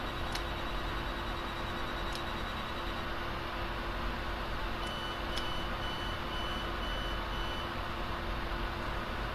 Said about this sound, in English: I'm getting the beeping sound.